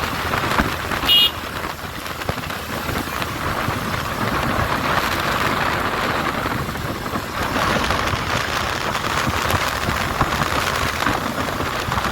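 Steady rain falls on the road to Ambaji in hilly country, a constant close hiss that lasts throughout with no voices.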